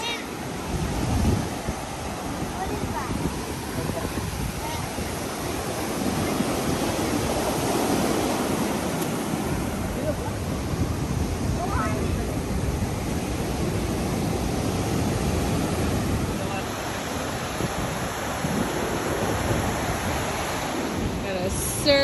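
Ocean surf rolling onto a black sand beach at a surf resort in Baler, Philippines, a broad continuous wash mixed with wind buffeting the microphone, steady and fairly loud the whole time.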